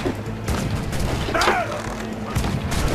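Ship cannons firing in the naval combat of the video game Assassin's Creed 4 Black Flag, a rolling burst of booming shots over a steady background rumble of sea and battle noise.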